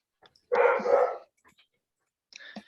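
A dog gives one loud, close bark, followed after a pause by a shorter, softer bark or whimper.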